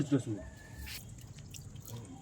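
Water is poured onto the soil of potted bean seedlings on a rooftop terrace. There is a brief splashing trickle and some drips, close by, heard under a man's speech.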